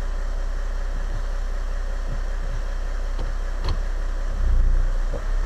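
A warm Mercedes engine idles steadily in neutral with an automatic gearbox, a constant low rumble throughout with a slight thump as the load shifts near the end, no talking.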